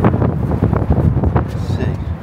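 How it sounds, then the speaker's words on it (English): Gusty wind buffets the microphone outdoors on a windy day, with uneven low rumbles and bursts through the short stretch. "Man, I hate windy days."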